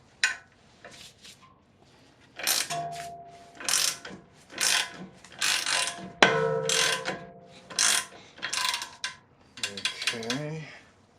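Ratchet turning a 24 mm socket on the front axle of a 2008 Acura MDX: bursts of rapid metallic clicking, repeated strokes with pauses, close and alone.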